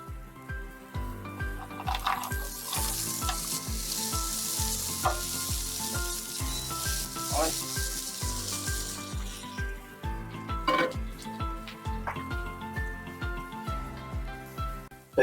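Vegetables sizzle and fry in melted butter in a frying pan, a steady crackling hiss with occasional stirring clinks, close and continuous.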